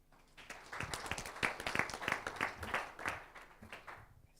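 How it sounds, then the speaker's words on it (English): Scattered audience clapping at a live research and innovation session, a modest group giving distinct, fairly close handclaps in an uneven rhythm that swells and then thins out toward the end. "A round of applause for her, please."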